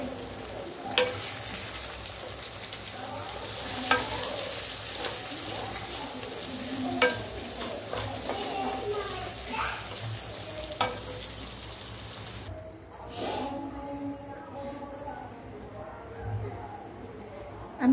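An egg frying in a covered pan for fried rice, giving a steady close sizzle with occasional scraping and clinks, then quieter toward the end, with a voice speaking briefly in places.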